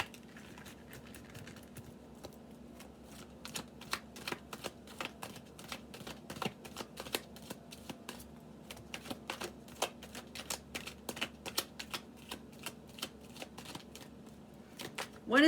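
Tarot cards riffle and snap in quick, irregular bursts, close and crisp over a low steady hum, continuing throughout.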